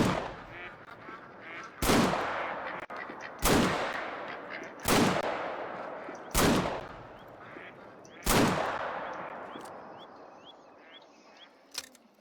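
Six loud shotgun blasts ring out roughly every one to two seconds in The Hunter: Call of the Wild during a mallard duck hunt, each followed by a decaying echo, with faint quacks and calls near the end.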